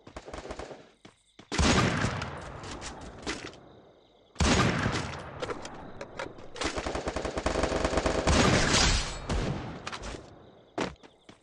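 Loud bursts of automatic gunfire from the Free Fire battle royale game, several rapid volleys separated by short pauses, with dense sustained firing toward the end.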